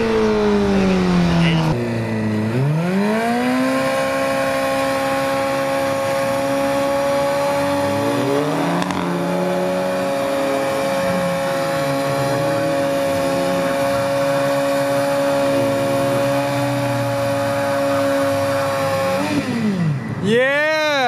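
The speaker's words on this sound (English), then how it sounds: "Is he trying to do a burnout?" Car at a cars and coffee meet attempting a burnout, engine revving hard, dropping, then holding a high sustained wail for many seconds before a final rev swing; loud and fairly close with crowd voices underneath.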